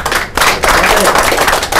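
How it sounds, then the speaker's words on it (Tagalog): Audience at a farm tourism agribusiness gathering clapping, a short burst of loud, close, dense applause that dips briefly before carrying on steadily. "Palakpakan natin ang dalawa."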